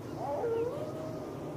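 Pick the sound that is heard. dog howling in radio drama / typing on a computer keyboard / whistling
dog howling in radio drama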